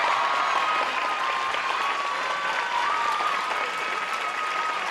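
Graduation crowd at a high school ceremony applauds a scholarship recipient, a steady, broad roar of clapping from a large audience that holds evenly for the whole span with a faint tone running beneath it.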